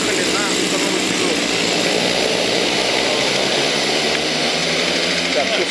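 Rotax Max racing karts pull out onto the track for a setup session, a dense, loud wall of two-stroke engine drone continuing throughout.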